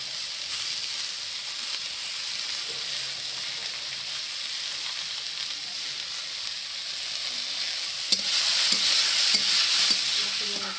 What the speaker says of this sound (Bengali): সে ভাতটা দিয়ে দিলাম, সুন্দর করে ফ্রাই করে নেব